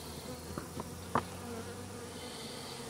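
A faint buzz of honeybees from a recombined swarm hums in the background of a quiet space, with a few soft ticks and one brief louder tap.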